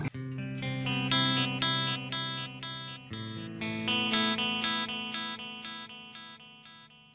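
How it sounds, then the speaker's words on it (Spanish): Electric guitar run through a reverse delay pedal on a pedalboard, with swelling backward-sounding notes repeating in a steady pulsing rhythm and a chord change midway, moderately loud with no voices. "Apaguemos esos dos pedales, escuchá el reverse."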